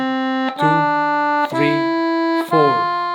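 Accordion sounds four sustained, held notes of equal length, each attacked with a soft onset about a second apart and ringing with rich reedy harmonics, played alone at close range.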